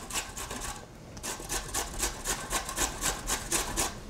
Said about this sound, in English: So we'll grate those two to three carrots and then we'll start sauteing.